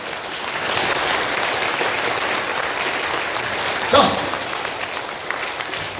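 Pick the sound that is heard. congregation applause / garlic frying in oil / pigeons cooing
congregation applause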